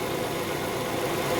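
A Nissan Cefiro car engine runs steadily at a constant, moderately loud hum with no clear rise in revs during the brief stretch.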